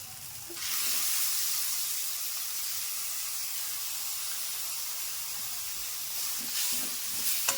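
Blended tomato hitting hot oil in a pan for spiced dum aloo, a sudden loud hiss that settles into a steady, close sizzle with no talk.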